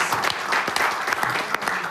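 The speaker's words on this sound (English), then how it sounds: "A big round of applause." A short burst of audience applause at a sports tournament draw event, steady clapping of moderate loudness with some voices underneath.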